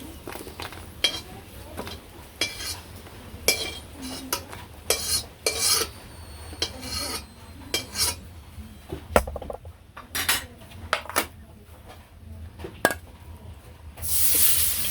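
Dried chillies and garlic are stirred and lifted out of a frying wok in a village kitchen, with repeated sharp scrapes and clinks of a spatula against metal over a low sizzle, irregular and close.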